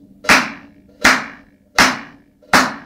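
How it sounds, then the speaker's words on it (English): Four evenly spaced, crisp hand claps in synchronized time, each a sharp isolated slap with a short decay, played along to a drum beat in a music lesson. "If I clap in a synchronized fashion to the hi-hats"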